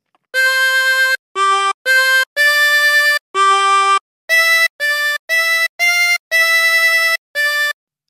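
A harmonica plays the opening phrase of O Come All Ye Faithful, a steady melody of about twelve clear, separate notes, loud and close, alone without talk.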